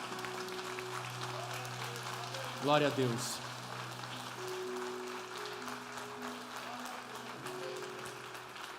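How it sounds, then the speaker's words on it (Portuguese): A church congregation applauding during a Brazilian worship service, steady broadband clapping that swells briefly midway, with music tones and a voice speaking over it throughout. "e vamos aplaudir ao Senhor."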